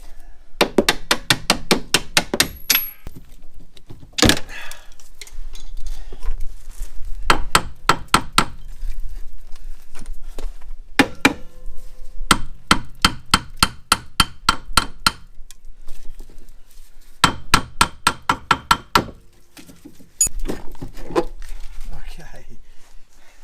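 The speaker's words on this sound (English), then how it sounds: "So now when we take the bottom bolt out and smack the shock off, it should come off." Rusted rear shock absorber on a Subaru Forester being hammered off: close, loud bursts of rapid metallic hammer blows, several quick strikes per burst, separated by short pauses.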